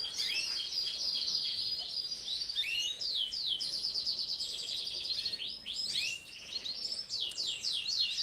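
Gloucester canaries singing in a close, continuous stream of bright trills and rapid chirps, with no talk.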